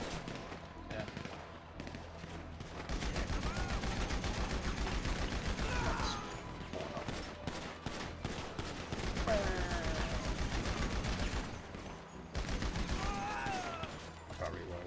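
Rapid automatic gunfire in GTA Online survival mode, loud bursts of machine-gun fire repeating in several long strings with short gaps between them, with voices talking over the shooting.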